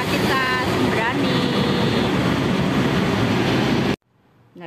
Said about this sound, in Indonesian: Nah, ini kereta Sembrani juga datang ya.